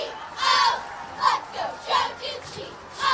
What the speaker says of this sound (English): And you can hear that Hershey crowd.